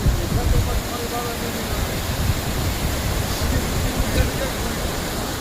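A village river in full flood rushes past as a loud, continuous roar of churning water, with a voice faintly present beneath it.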